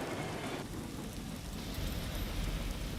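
Heavy rain in Mumbai and its suburbs falls as a loud, unbroken downpour with a low rumble beneath, close by and without any speech.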